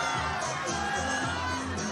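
A dense crowd of fans screams and cheers loudly and continuously for Tom Cruise at the Cannes film festival premiere, with high shrieks and shouts blending into one steady roar.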